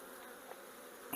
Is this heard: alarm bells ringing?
no